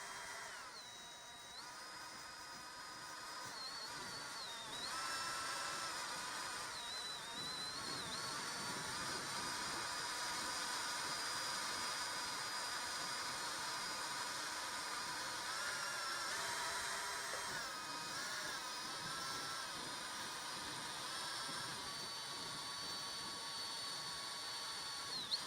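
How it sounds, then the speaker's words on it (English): A power drill mixing material for glass art whirs steadily and loudly for the whole stretch, its pitch wavering slightly as it mixes, with no voices over it. "So now we're back to the drill."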